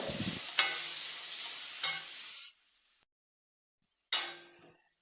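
Asafoetida powder and spices sautéing in a pan for rasa vadai: a loud hissing sizzle with a few spoon scrapes and clinks, then a sudden silence and a short final sizzle that fades.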